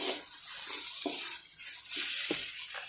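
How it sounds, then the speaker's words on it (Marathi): Water is drained off soaked whole masoor lentils in a kitchen, a steady close hiss of trickling liquid broken by soft scraping and clinking, no talking. "तो आता निथळून असं त्यातून पाणी काढून याच्यामध्ये टाकून घेऊयात"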